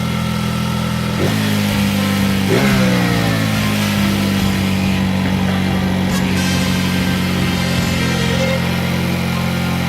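Honda Super Cub motorcycle idling at a stop with a fault that makes the revs climb on their own: loud, close engine that swells in pitch twice early on, then holds a raised, steady drone.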